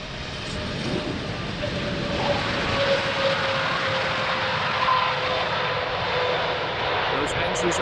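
A jet airliner makes a derated takeoff at Amsterdam Schiphol Airport on a windy day, its engines a broad continuous roar that rises and holds steady at a moderate distance.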